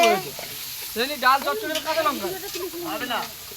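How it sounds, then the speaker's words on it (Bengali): Chicken kosha sizzles in a pan at an outdoor picnic, a steady hiss running under nearby voices talking throughout. "আমাদের পিকনিকের চিকেন কষা হচ্ছে।"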